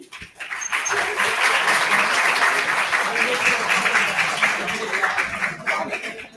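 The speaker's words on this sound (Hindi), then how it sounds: "तालियों के पीछे दो रीजन होते हैं" An audience breaks into loud, sustained applause after a speech about teachers and students, a dense wash of clapping that swells quickly and holds for several seconds before starting to fade.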